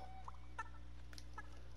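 A few short, sharp chicken clucks from a Fortnite chicken, spaced irregularly over a steady game background drone.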